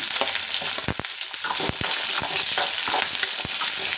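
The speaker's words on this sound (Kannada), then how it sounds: "ಎಸ್ ಆನಿಯನ್ನು ಸ್ವಲ್ಪ ನೀಟಾಗಿ ಫ್ರೈ ಮಾಡೋಣ" Onions fry in a pan with a loud, steady sizzle close by, punctuated by regular taps and scrapes of a spoon stirring.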